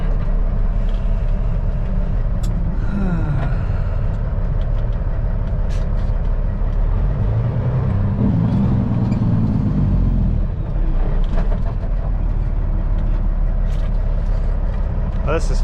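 Heavy trucks idle and creep along in a highway traffic backup, a steady low rumble of diesel engines heard from inside a cab, with occasional brighter noises passing through and a voice talking over it.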